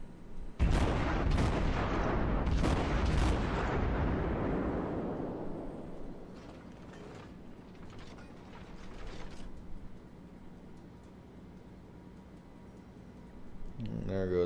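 Heavy cruiser Cleveland firing its main guns in a World of Warships naval battle: a volley of several booming shots in quick succession, fading into a long rumbling tail with mechanical clanks and faint later reports.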